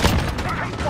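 Sentry gun in a video game firing a fast, loud burst of repeated shots, dense and continuous throughout the short moment.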